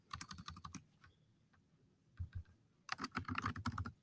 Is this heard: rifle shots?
no